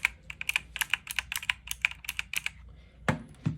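Rapid typing on a mechanical keyboard with blue switches, a close, crisp run of clicky keystrokes in an uneven rhythm, ending with a couple of heavier thumps.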